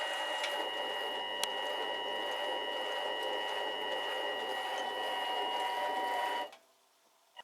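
A mini lathe cuts a thread into steel in reverse rotation, giving a steady, close mechanical whine with a ringing tonal hum. It runs unbroken and then cuts off abruptly near the end, leaving near silence.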